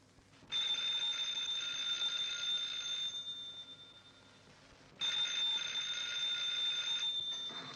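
An old-fashioned telephone bell in a 1940s house rings in two long, shrill electric bursts separated by a short pause, heard fairly close in an otherwise quiet room.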